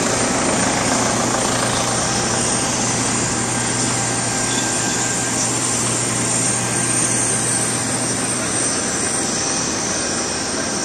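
An airplane engine drones at an airport, a loud, constant whooshing roar with a low steady hum underneath, continuing evenly for about ten seconds without speech.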